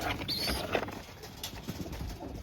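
A racing pigeon coos softly at close range, low murmuring calls under faint background noise in a pigeon loft setting.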